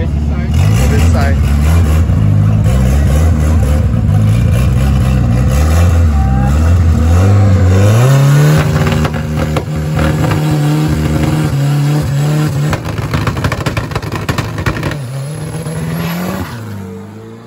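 A car roars close by in a street race, engine revving hard and climbing through gears before passing, with tire noise and excited voices talking over the engine.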